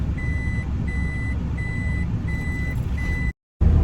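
A Toyota Camroad motorhome emits a steady series of five loud, evenly spaced reversing beeps over a heavy low engine rumble while backing into a parking spot, with a brief dropout near the end.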